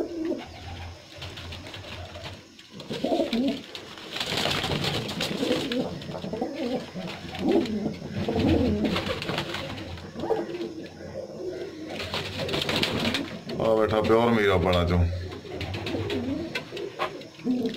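Pigeons coo close by in repeated soft, throaty rolling calls, with someone talking intermittently over and between them.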